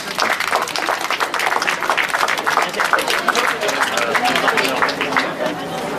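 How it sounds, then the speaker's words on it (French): Audience at a Paris event breaks into applause, a dense patter of many hands clapping steadily throughout with crowd chatter and a voice underneath. "On peut les applaudir s'il vous plaît."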